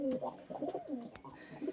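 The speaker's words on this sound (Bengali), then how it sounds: "এই যে বন্ধুরা পায়রার লফট, সব পায়রা এখনো বন্ধ আছে আপাতত" Pigeons shut inside a rooftop loft coo in a steady run of soft, rolling, throaty calls that overlap up close.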